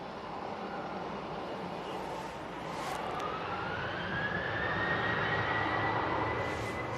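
A TUI Boeing 737-800 airliner readies for departure at windy Manchester Airport, its engines giving a steady broad roar with a rising whine that swells and grows louder over the seconds, heard from a distance through wind noise.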